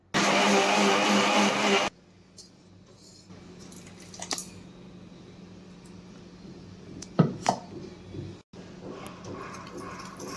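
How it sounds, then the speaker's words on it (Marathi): A kitchen mixer grinder blends a cooked tomato mixture, whirring loudly and steadily for about two seconds before cutting off, followed by quieter clatter of the jar and lid. "मिक्सरमध्ये अशा पद्धतीने सर्व मिश्रण हे बारीक करून घ्यायचं"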